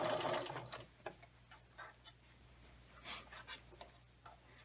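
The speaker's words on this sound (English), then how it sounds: "If you don't have a guide, you could put a little tape or something so you know where to stitch. And again, sew all the way around." A sewing machine stitches a fabric treat bag up close, opening with a brief fast burst of whirring, then quieter intermittent ticking mechanical clicks as the fabric is guided around.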